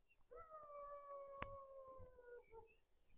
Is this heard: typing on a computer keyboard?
no